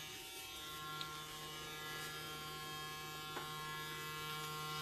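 A BaBylissPRO FX880 hair clipper hums steadily while trimming a beard, a faint, constant electric buzz with tonal harmonics and a couple of tiny clicks, alone without talk.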